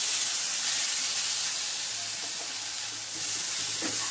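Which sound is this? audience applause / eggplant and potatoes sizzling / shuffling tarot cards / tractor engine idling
eggplant and potatoes sizzling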